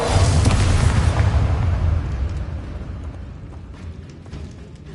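A Bombarda spell explosion from the video game Hogwarts Legacy hits with one loud, deep boom that rumbles and fades away over a few seconds, with faint clicks afterward and no talking.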